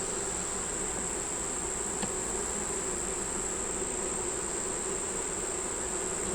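Honey bees crawling over the edge of a hive frame make a dense, steady buzzing drone that stays loud and close throughout, with no talking.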